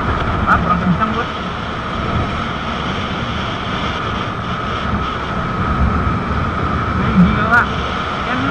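A Honda CBR 150R motorcycle leans through corners on a road between Bukittinggi and Padang, giving a steady rushing drone of engine and wind that runs continuously with no break.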